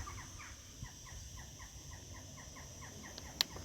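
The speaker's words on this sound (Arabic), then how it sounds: "صوت الحمام وصوت الطيور وصوت الطبيعة" Faint, repeated calls of pigeons and other birds near a cave in Morocco, in a quiet setting, short chirping notes at a steady rhythm with a brief sharp sound near the end.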